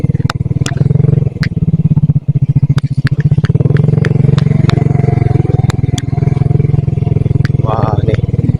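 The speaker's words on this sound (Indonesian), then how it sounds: "Harus pakai sepeda motor ya untuk menuju ke sini." Motorcycle ridden along the road toward a remote village in eastern Indonesia, its engine chugging loud and close in a rapid steady pulse, with sharp clicks and knocks and a voice talking briefly over it.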